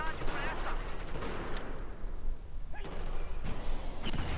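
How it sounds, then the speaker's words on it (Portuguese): Gunfire and rocket launcher blasts in the PS4 game Battlefield 4, with dense bursts of shots and heavy booms packed together through the whole short stretch, loud and busy, as a player speaks over the battle. "Os caras dando tiro de bazuca aqui."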